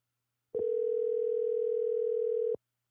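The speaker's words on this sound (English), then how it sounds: "Come on, Gray, answer this phone" An unanswered phone call rings on the line, heard as one steady electronic ringback tone lasting about two seconds, clean and alone with silence on either side.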